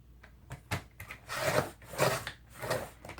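Trimming the edge of a freshly glued paper page for a collaged envelope insert, heard as a series of close rasping, scraping cuts that swell and fade in repeated strokes.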